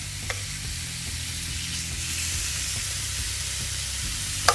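Thin slices fry in a hot pan for Mediterranean couscous, giving a loud, steady close sizzle with small clinks of a utensil at the start and end, and no talking.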